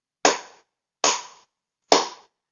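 Three loud, sharp hand claps, evenly spaced about 0.8 seconds apart, each ringing off briefly in a quiet room, beating out a strong pulse for a children's song lesson.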